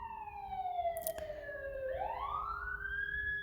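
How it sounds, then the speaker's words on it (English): A police siren wails close by, its pitch sliding down then sweeping back up, with a brief clatter partway through. "Sirens."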